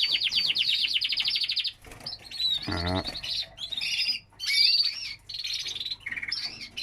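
Canaries in a breeder's aviary chirp and trill in rapid high bursts, close and bright, with varied tweets and short warbles separated by brief pauses, and someone speaks a single word.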